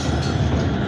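A train running out of Suwansa railway station on the Pratapgarh–Badshahpur line gives a steady low rumble of wheels and carriages, loud and continuous with no talk.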